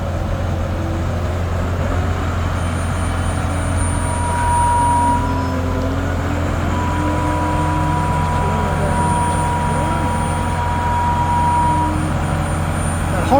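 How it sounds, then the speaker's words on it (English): A steering system being worked produces a harsh, wavering whine over a steady, loud engine drone that runs unbroken throughout. "That horrible noise, I've realised, is when they're using the steering."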